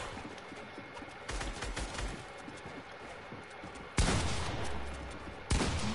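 Video game gunfire crackles in scattered bursts, fairly faint and distant, with two sudden louder blasts near the end over a steady background din.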